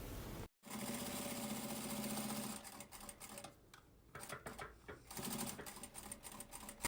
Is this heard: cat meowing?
no